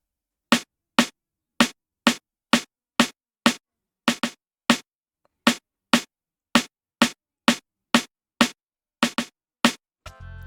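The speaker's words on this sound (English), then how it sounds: "which is that snare kind of rim shot, which goes with this kick right here" Snare rim shots from a beat ring out alone in a steady, fast run of crisp, evenly spaced cracks, about two per second, with a brief gap midway and a short buzzy tail at the end.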